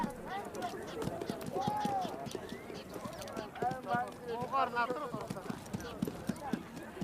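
Many horses gathering at the start of a long-distance race in the Far East, their hooves clip-clopping in a dense, uneven patter, with voices and occasional whinnies mixed in across the herd.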